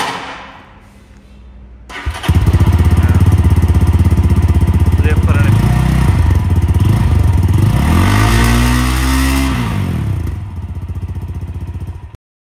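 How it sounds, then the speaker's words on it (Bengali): A GPX Demon GR165RR motorcycle at a service center starts up and runs loudly nearby, holding a steady engine drone with rising and falling revs for several seconds before cutting off, with no talk over it. "একটু সাউন্ডটা শোনার চেষ্টা করি, ইঞ্জিনের সাউন্ডটা।"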